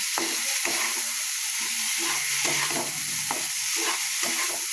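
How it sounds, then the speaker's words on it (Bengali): Cauliflower is stirred through masala in a hot pan, making a constant loud sizzle broken by irregular scraping strokes of the spatula, close and without talk. "কফিটা দিয়ে আবারও একটু নাড়াচাড়া করে মাখিয়ে নিচ্ছি"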